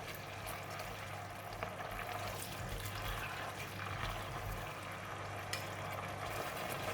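Steady sizzling and bubbling of tom yum fried noodle sauce with kaffir lime leaves, fish sauce and sugar cooking in a pan, with faint scraping of a utensil stirring through it, continuous and close.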